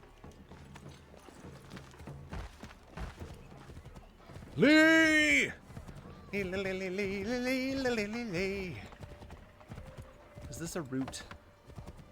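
A horse in the Assassin's Creed III video game, heard as loud whinnies and a run of hoofbeats in bursts while someone talks over the game's sounds.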